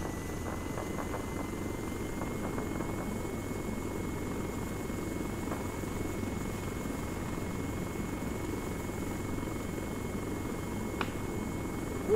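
Littlebird helicopter in the video game ArmA 3 lifting off, a steady droning rotor and engine hum held at an even level throughout, with a faint high whine above it.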